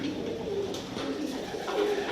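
Pigeons and homing pigeons in a loft coo softly, low throaty warbling calls overlapping in a steady murmur, fairly close, without speech.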